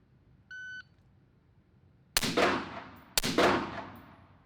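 Carbine gunshots during Trex Arms drills at Vortex Edge: a short shot-timer beep, then two sharp, loud reports about a second apart, each with a ringing decay.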